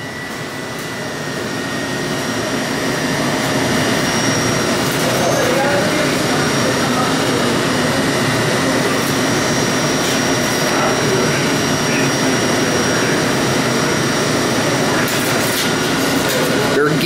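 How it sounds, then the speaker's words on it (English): Gearless traction elevator motors on 1975 Otis VIP 260 equipment in a Vancouver, BC machine room run with a loud, steady broadband drone and thin whining tones. The sound swells over the first few seconds, then holds constant throughout. "They're gearless motors."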